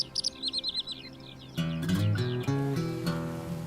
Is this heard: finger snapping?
no